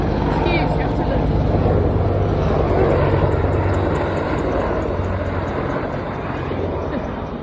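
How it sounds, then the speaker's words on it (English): A large helicopter passes over an outdoor tortoise enclosure, its rotor and engine making a loud, steady broadband roar with a low pulsing hum that fades slightly toward the end. "We'll just let that helicopter go round."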